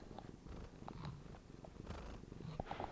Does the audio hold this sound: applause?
no